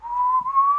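A man whistles a single clear, steady tone in The Walking Dead season 3, held and slowly rising with a tiny break midway, alone and close.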